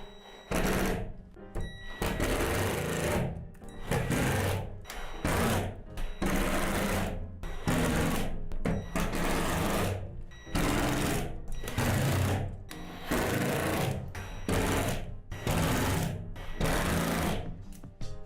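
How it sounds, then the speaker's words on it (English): A power drill drives screws into the plastic parts of a Lifetime AS770 shed: loud, close whirring bursts repeat in a steady rhythm, separated by brief pauses. "Remember, if you're using a drill like us, be extremely careful not to over-tighten the hardware"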